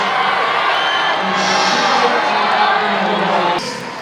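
A crowd at a UK vs USA strongman competition cheers and applauds loudly for Rebecca as she holds a 260-kilo weight. The cheering is dense and sustained and mixes with voices before it drops off near the end.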